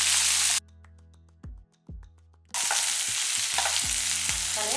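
Roasted gram dal frying in a pan, with a steady sizzling hiss that drops away briefly while a few spoon scrapes and taps sound close by, then returns strongly with more stirring and no speech.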